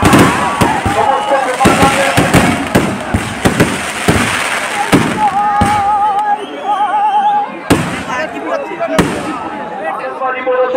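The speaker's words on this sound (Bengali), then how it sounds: "আতশবাজি প্রদর্শন করছে সুন্দরবন ফায়ারওয়ার্কস" Festival fireworks display by Sundarban Fireworks at a Rash Mela fair in Jagaddal, a dense run of loud booming bursts and crackling pops with whistling rockets, crowd noise underneath throughout.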